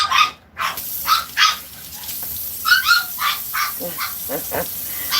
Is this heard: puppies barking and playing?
yes